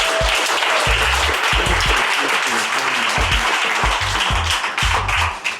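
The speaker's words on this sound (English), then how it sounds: "I want you to give yourself a resounding clap offering." Loud, dense applause from an audience at an event on Ghana investment in Washington DC, with steady clapping throughout, occasional voices and low thuds underneath, continuing across the whole span.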